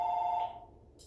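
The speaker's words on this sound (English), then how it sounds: "Sorry for the phone call." A telephone ring with a steady tone that fades out after about half a second, heard indoors during a maths lesson on graphing rational functions, faint and alone.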